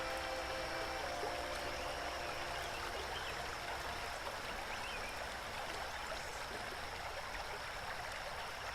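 A steady flowing river in a video game rushes continuously at an even, quiet level, with no breaks or other sounds across the stretch.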